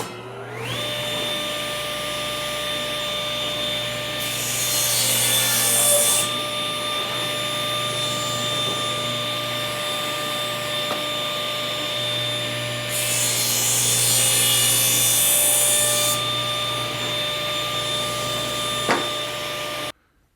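A table saw makes test cuts in wood guided by a Bauer miter gauge, running steadily with two louder stretches as the blade passes through the board, near and without talk.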